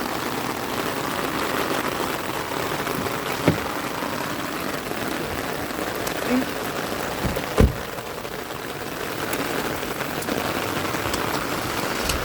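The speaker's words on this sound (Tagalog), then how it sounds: "Lakas na ulan." Heavy rain pours steadily in a dense, hissing wash, with a few sharper drops or knocks standing out.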